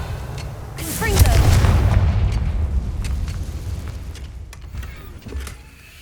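A Confringo blasting curse in Hogwarts Legacy bursts into a loud, deep boom that swells and then rumbles away, with crackling debris and a spoken incantation at the start.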